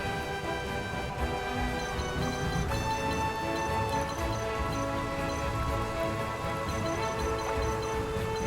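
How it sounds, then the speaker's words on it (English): Steady rain patters continuously indoors in the game Triangle Strategy over a dense background of sustained musical tones, an even wash of drops without pauses. "So now it's raining inside."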